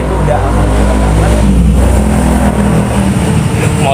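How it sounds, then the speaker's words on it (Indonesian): A motorbike goes past outdoors, its engine drone loud and steady across the whole stretch while people talk over it. "Motor lewat ya."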